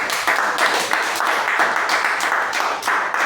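A church congregation applauds during a Sunday service, many hands clapping in a full, steady wash with slight rhythmic swells, close and fairly loud for a few seconds.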